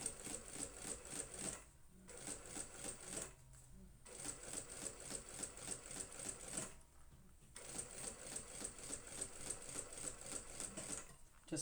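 A sewing machine top-stitching a handbag zipper placket, a close, fast mechanical rattle running in three bursts with short pauses between them.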